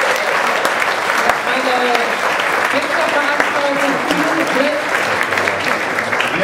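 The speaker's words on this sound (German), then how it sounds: "Komm, das gibt einen Applaus." An audience at a street event claps in loud, sustained applause with a few voices and cheers mixed in, and someone speaks briefly over the clapping.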